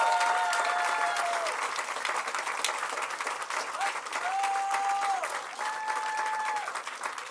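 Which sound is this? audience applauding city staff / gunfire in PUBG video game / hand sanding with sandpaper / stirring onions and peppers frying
audience applauding city staff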